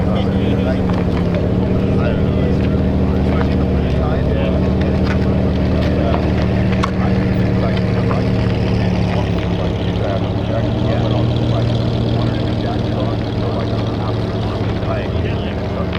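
A loud, steady Toyota V6 engine drone with a deep harmonic hum runs throughout, holding a constant pitch with faint rattles and no clear revving peaks.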